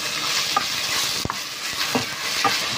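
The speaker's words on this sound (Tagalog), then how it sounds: "Mga tropa, lalagyan ko na ng ating beef. Medyo piprito lang natin siya ng bagay," Beef fries in hot oil for beef ampalaya, a loud continuous sizzle close up, broken by a few sharp stirring scrapes and knocks against the pan.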